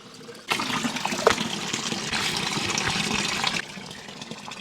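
Water from a public fountain in Portugal's Viseu area pours into a bottle: a sudden gushing rush starts, holds steady for about three seconds and then cuts off, leaving quieter background, with no talking.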